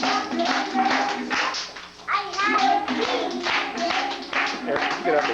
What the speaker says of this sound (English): let's clap your hands, clap your hands, clap your hands